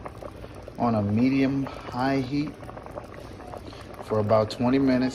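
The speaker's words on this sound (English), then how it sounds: "The root vegetables have been simmering on a medium-high heat" A pot of root vegetable soup simmers on medium-high heat with a soft, steady bubbling underneath, while a person talks over it.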